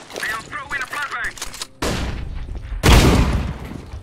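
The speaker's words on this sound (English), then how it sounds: "They are throwing a flashbang." A flashbang grenade goes off during a Counter-Strike: Global Offensive match, two sharp loud bursts of game noise arriving close together after a voice talks briefly at the start.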